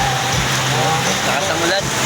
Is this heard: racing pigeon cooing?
no